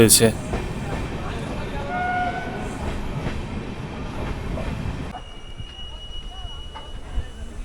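The Kolkata–Sairang Express, on its first run from Krishnanagar City Junction toward Azimganj, rumbles steadily on the rails with clattering wheels and a brief squeal, heard from inside amid background voices, the noise easing after a few seconds.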